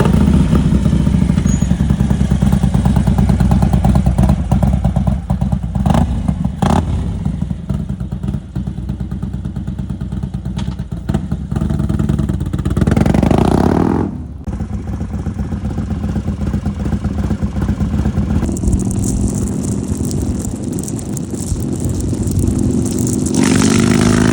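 A Harley-Davidson Road Glide fitted with a 132 big bore kit fires up and revs close by. Its loud, lumpy V-twin idle rises and falls through several throttle blips, then drops briefly before a higher, sustained rev near the end.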